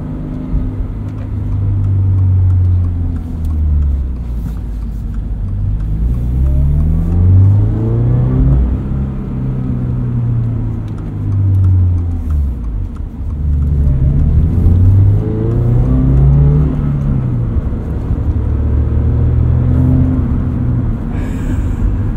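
A 2001 Honda S2000 driving along, its engine revving up and easing off repeatedly in smooth rising and falling sweeps, loud and close from inside the car, with no talking.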